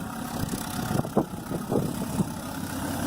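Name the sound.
John Deere 540B skidder engine running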